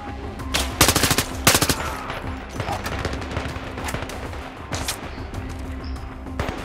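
Automatic gunfire in a shooter video game, rapid bursts of close machine-gun fire in quick rhythmic volleys, then scattered shots and further bursts over a steady background hum.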